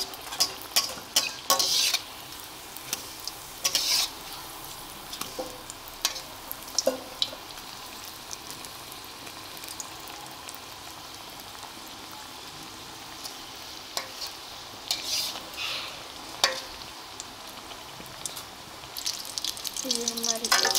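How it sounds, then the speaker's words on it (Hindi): A burger patty frying on a low flame, a soft continuous sizzle with intermittent scraping and stirring clatters rising and falling across the whole stretch. "हल्की आंच पे पका रहे हैं ताकि अंदर तक अच्छी तरह से ये पक जाए।"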